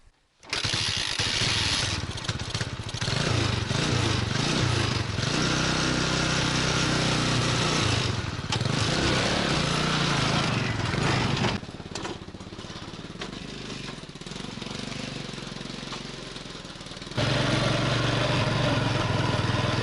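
A motor tricycle engine running loudly and continuously while hauling long firewood logs on a trailer, a rough buzzing drone that shifts in pitch and load, easing slightly midway before revving up again near the end.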